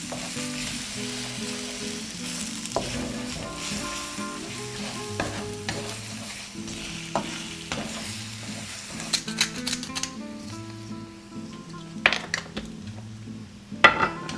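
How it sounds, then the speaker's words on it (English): Eggs and tortilla pieces fry in a pan while a utensil stirs them, making migas. A steady close sizzle runs the whole time, with scraping and clinks against the pan and no talk. "I'm gonna make sure you move it all around, make sure all the tortillas get some eggs on it."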